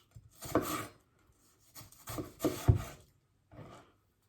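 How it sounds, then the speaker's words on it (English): A knife slicing vegetables thinly on a wooden board for a Cajun vegetable wrap, heard as three short bursts of rubbing, rasping cuts close by with quiet gaps between them. "Just nice thin slices."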